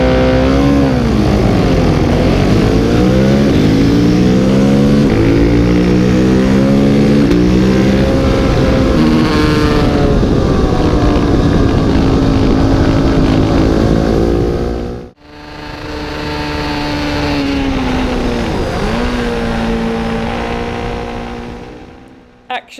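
Supermono single-cylinder racing motorcycles roar around the Donington Park circuit, a loud engine pitch rising and falling through gear changes, cutting off briefly mid-run before another close pass.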